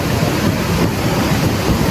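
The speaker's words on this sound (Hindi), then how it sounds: "नाज़रीन आप आवाज़ सुन सकते हैं, ये पानी की आवाज़।" Fast-flowing water of the Sutlej River roars through the Sulemanki headworks, a loud, dense, continuous rumble with some wind buffeting and no speech.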